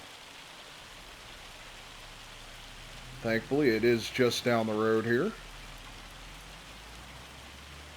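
Hail and rain fall during a hailstorm in the Farming Simulator 25 video game, a steady soft hiss of pattering drops throughout, with someone speaking briefly over it in the middle.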